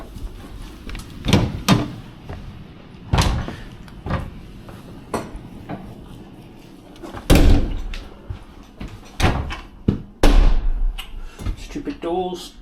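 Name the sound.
Piccadilly line train doors at Northfields depot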